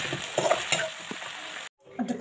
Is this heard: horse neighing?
no